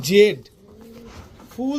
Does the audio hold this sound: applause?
no